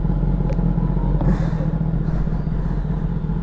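A Kawasaki ZX-10R sportbike rolls up close, its engine rumbling under steady background road noise, with a short mechanical clatter midway and a faint rise in revs.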